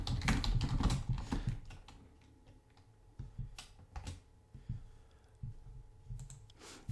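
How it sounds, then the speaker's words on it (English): Quiet clicking of keys on a computer keyboard during an online Magic: The Gathering session, irregular bursts of taps with short pauses, close and soft, with a denser flurry at the start and again near the end. "I was typing, so I went right through my own step there"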